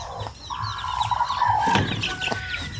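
Native chickens, five of them in a cage, give scattered clucks and squawks up close, with a sustained call in the middle and birdsong chirps behind, no talking.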